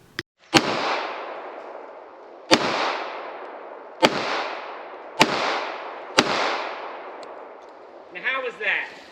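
A Radom P64 pistol fired at an outdoor range gives six sharp, loud shots spaced a second or two apart, each trailing off in a long echo, with brief voices at the end.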